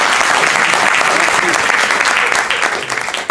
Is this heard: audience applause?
yes